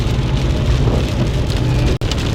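Rain drums steadily on a car driving along I-29 between Lincoln, Nebraska and Kansas City, a dense, loud hiss over a low road rumble with a brief dropout near the end.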